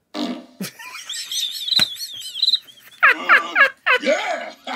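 A person blows a wet, sputtering raspberry with their mouth to imitate a fart, loud and close, in several drawn-out bursts with squeaky rising and falling tones, excited vocal whoops between them.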